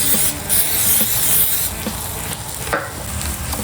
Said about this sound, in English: Spray the top of them. We just keep it from sticking